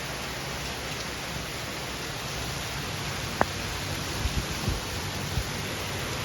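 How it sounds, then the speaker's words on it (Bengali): Heavy rain falls steadily through a hot night after a long downpour, a dense, even hiss with a few faint drips and taps standing out near the end. "বৃষ্টি হচ্ছে ভালো জোরেই, বৃষ্টিটা যে অনেকক্ষণ ধরে হয়।"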